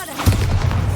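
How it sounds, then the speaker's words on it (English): Bombarda spell explosion in Hogwarts Legacy: a short, deep booming thump that lands abruptly and rumbles for under a second, loud and close. "Bombarda!"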